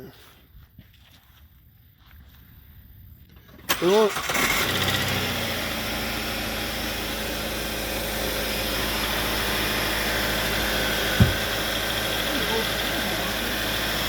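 After a few quiet seconds, an overheating Hyundai Sonata V6 starts up and settles into a steady, even idle heard up close, with one brief thump partway through.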